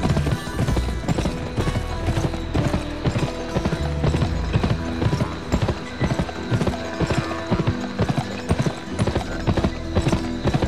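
Horse hooves gallop in a race in the video game Gun, a loud, continuous rapid clip-clop rhythm with occasional whinnies and mechanical game sounds underneath.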